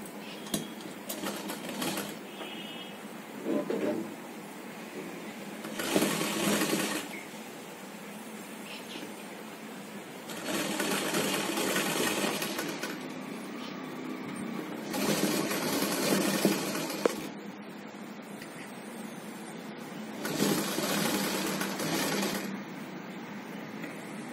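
A sewing machine stitches frills onto the shoulder of a child's umbrella frock, running in several steady bursts of a few seconds each with quieter pauses between, close and clear throughout.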